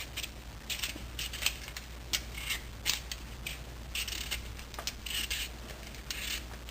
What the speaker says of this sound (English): After that still I need peel it one more time.